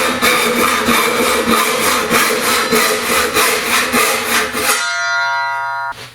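A Japanese hand saw rasps through 20 mm larch wood in fast, even back-and-forth strokes, close and loud, then stops, leaving a faint ringing hum.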